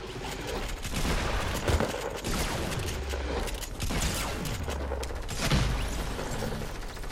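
Rapid gunfire bursts in Fortnite, dense rattling volleys with mechanical clicks repeating over several seconds, fairly loud and continuous, with faint voice in the background.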